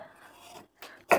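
A knife chopping carrots on a board, two quick close strikes, the second louder, after a moment of soft background noise.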